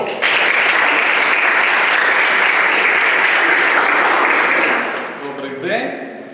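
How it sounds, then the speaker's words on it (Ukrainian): Loud, sustained studio applause greets a guest on a broadcast of the Ukrainian Cup quarterfinal draw, a dense wash of clapping that fades out near the end as a voice begins to speak. "Бурхливими оплесками привітаємо першого гостю нашого сьогоднішнього ефіру"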